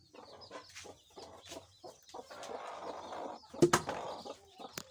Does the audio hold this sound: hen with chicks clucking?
yes